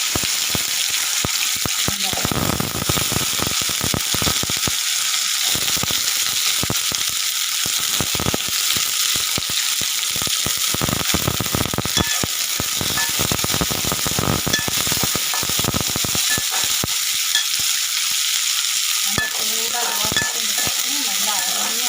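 Fennel seeds and onions fry in hot oil for a spicy kara chutney, a loud steady sizzle running throughout with repeated scraping stirs and spatula clatter.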